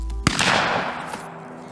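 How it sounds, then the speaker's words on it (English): A single gunshot sound effect cracks sharply near the start in Unreal MetaSounds, followed by a long, fading room reverb tail, with a soft thump at the end. "And we have a gunshot."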